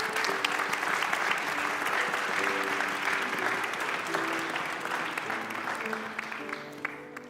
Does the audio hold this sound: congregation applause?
yes